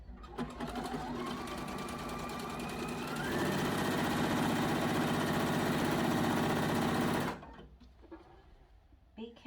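Close and loud, a sewing machine stitches quilted fabric pieces, right sides together, for a peg bag, whirring continuously with a slight rise in pitch and speed partway through before cutting off into near silence.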